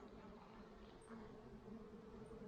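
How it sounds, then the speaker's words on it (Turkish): Soft, steady buzzing of many honeybees close by on a hive frame with capped brood and pollen, a continuous low hum with no talking. "Az miktarda arı üstünde çalışıyor."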